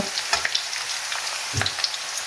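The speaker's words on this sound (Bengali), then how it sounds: "দিয়ে আমি আরো 1 মিনিট ভেজে নেব।" Finely chopped garlic and dried chili fry in hot oil for a potato and fenugreek dish, a close, constant sizzle broken by two bursts of stirring scrapes, with no voices.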